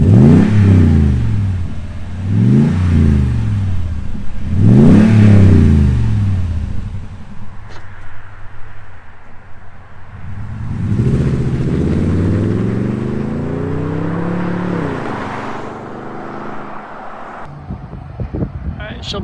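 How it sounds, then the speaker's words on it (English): A 2021 Toyota Tundra TRD Pro pickup engine revs hard three times in quick succession, then a longer, rising rev and drop, with deep exhaust rumble throughout. "We're going to go ahead and do a few revs, and then Mrs. Untamed is going to get on it"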